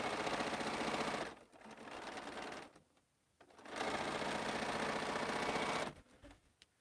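A sewing machine seams quilt pieces in two long, steady runs of rapid stitching, separated by a short pause and ending in another brief lull, fairly close and without talk.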